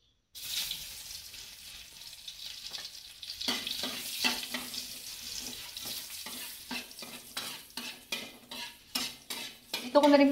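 Food is stir-fried in oil in a pan while a utensil scrapes and clinks against the pan over a steady sizzle, the rhythmic stirring growing louder toward the end.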